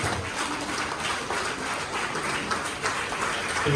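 An audience claps after a concert, a sustained burst of dense, steady applause from many hands filling the room.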